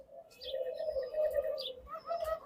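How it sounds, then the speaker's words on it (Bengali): Doves kept in cages at a Bangladeshi dove farm coo steadily in a low, continuous murmur, with a few higher chirps scattered over it and no talking. "দেখেন এই সবগুলা খাঁচায় কিন্তু ঘুঘু পাখি আছে এবং সবগুলা রানিং পাখি।"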